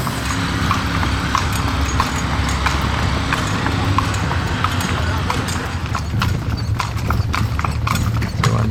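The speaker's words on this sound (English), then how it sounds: "We're going to be going on the horseback carriage." Steady clip-clop of horse hooves on pavement as a horse-drawn carriage rolls along at an even trot between temples in Egypt, with voices talking over it.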